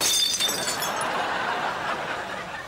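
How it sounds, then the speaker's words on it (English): Glass shatters loudly at the start, and a long spray of tinkling, scattering shards settles away over the next couple of seconds with no talk. "Come on, Leo, we don't want to step on broken glass"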